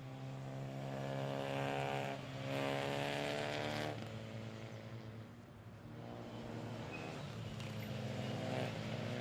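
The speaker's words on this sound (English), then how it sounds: "The Clio's on the formation lap." Renault Clio Cup race cars on the formation lap at Most circuit, a continuous engine drone rising and falling as the cars pass at moderate distance, with no talk over it.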